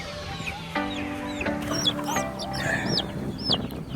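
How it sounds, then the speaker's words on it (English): Chickens cluck and squawk close by in a yard with a storm coming, a busy run of overlapping calls and a few higher cries, with no talk over them. "Last chicken."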